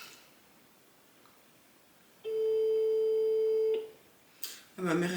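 A steady electronic telephone tone sounds for about a second and a half while calling a restaurant to order takeout pad thai, clear and close against a quiet room.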